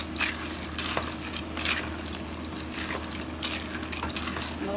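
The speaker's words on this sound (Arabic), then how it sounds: "سخنت هنبتدي نقلي المكرونه" Pasta frying in a hot pan on the stove, a steady close sizzle with occasional stirring scrapes and clinks throughout, fairly loud and without speech.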